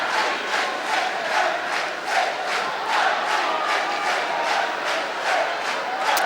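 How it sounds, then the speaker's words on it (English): Sheffield Steelers fans in an ice hockey arena chant and cheer in a steady rhythmic roar, a large crowd swelling in regular pulses throughout. "Sheffield fans cheering"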